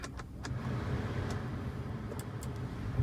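A 2022 Maruti Suzuki Wagon R automatic idles just after starting with the air conditioning on, a steady low engine hum and fan whoosh heard from inside the cabin, with a few faint clicks.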